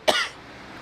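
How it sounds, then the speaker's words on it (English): A single short, sharp cough, close and fairly loud, dying away quickly into quiet room tone. "hate coughing"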